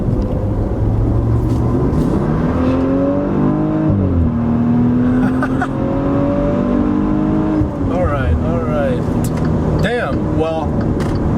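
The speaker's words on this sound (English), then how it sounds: "That exhaust definitely does sound nice." A loud, close exhaust of a 2017 Maserati Levante twin-turbo V6 SUV roars as it accelerates, its pitch climbing steadily and dropping at gear changes before rising again.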